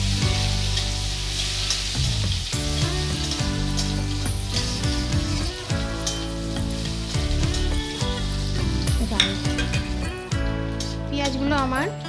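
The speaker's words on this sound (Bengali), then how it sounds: "এবার আমি কুচনো পেঁয়াজটা দিয়ে নেব পেঁয়াজটা আমি হালকা ব্রাউন করে ভেজে নেব" Sliced onion frying in hot oil until light brown for a spicy puti fish and potato curry, giving a steady sizzle largely masked by loud continuous background music.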